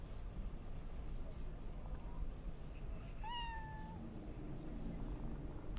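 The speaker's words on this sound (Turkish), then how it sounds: "Kediyi sevme." Cat in the video game Cyberpunk 2077 gives a single clear meow while being petted, heard over a steady background hum with faint talk.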